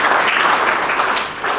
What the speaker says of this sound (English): can we just give everybody here a round of applause for what all of you do